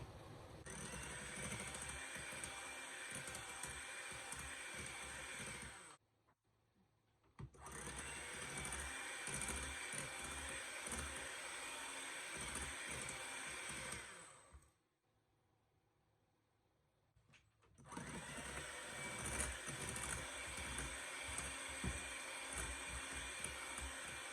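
An electric hand mixer beats egg yolks into whipped egg whites for a sponge cake, whirring steadily in three long runs broken by two short pauses.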